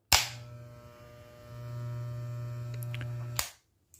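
A set of Wahl hair clippers switched on and running, giving a steady electric buzz that starts with a click, rises a little in strength midway, then cuts off with another click after about three seconds, close and fairly quiet.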